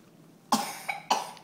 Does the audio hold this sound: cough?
yes